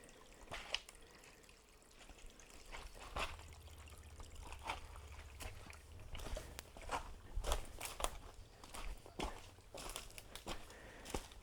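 Shallow stream water trickles over a rocky stream bed along a village path in Somerset, a faint steady babble broken by intermittent splashes and crunching footsteps wading through it.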